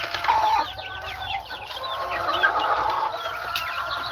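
Chickens cluck and chatter continuously nearby, several soft calls overlapping at a moderate, steady level.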